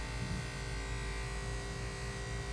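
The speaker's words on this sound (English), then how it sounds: "When drawing blood, you want to shave the area that you're going to draw from" Electric clippers shave a lab animal's fur before a blood draw from the saphenous vein or central auricular artery, giving a continuous close buzzing drone with no pauses.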